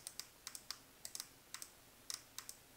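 Metal rotary encoders on a Thrustmaster Hypercar racing wheel add-on, clicking in quick crisp detents, pairs and small runs of sharp ticks close up and quiet, with nothing else heard.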